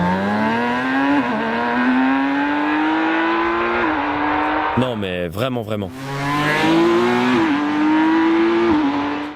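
A six-cylinder motorcycle engine revs loudly and close, its tone climbing and dropping in repeated pulls, broken midway by a brief burst of speech before the revving resumes.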